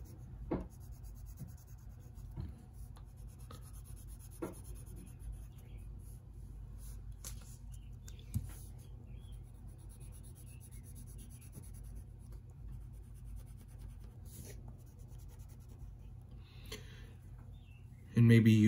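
A pencil colors in a SpongeBob drawing, steady soft scratching strokes across paper close by, with occasional taps and a voice speaking over it.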